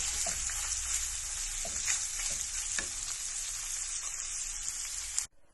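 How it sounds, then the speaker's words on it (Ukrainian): Steady, loud sizzling of julienned pork tongue frying in a pan, with a few soft scrapes and taps as it is stirred, then cutting off abruptly at the end. "І обсмажуємо на сковорідці."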